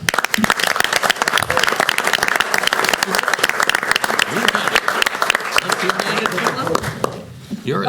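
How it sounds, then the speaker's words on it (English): A board of education meeting breaks into sustained applause, with dense, loud clapping from many people continuing for about eight seconds while voices talk and cheer underneath. "We applauded"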